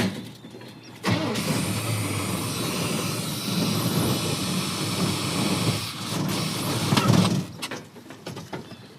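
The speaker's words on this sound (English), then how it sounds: "So we heard the engine run a little bit." A dually work truck engine starts up and runs for several seconds, a loud, rough, steady roar that swells briefly near the end, then cuts off abruptly.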